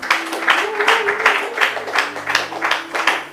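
A church congregation claps rhythmically during worship, steady beats about twice a second over a sustained sung or spoken tone, moderately loud and close.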